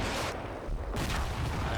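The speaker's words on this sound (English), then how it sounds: "Very loud, accurate artillery fire." Artillery fire in the wargame Combat Mission Shock Force 2, a loud broadband rumble of shell impacts that pauses briefly and then resumes as a dense, sustained barrage.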